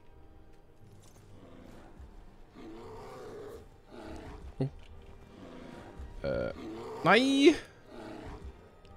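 A dragon in the video game Skyrim lets out a loud, rough roar near the end, rising over game music and ambience while someone talks throughout.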